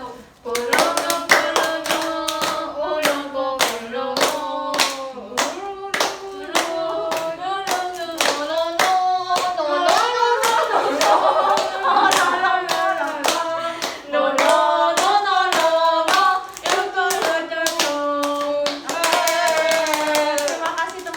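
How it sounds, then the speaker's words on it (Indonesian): A group of students claps hands in a quick steady rhythm, sharp and close, while a voice sings along over the beat throughout. "Teman-teman bantu tepuk tangan ya."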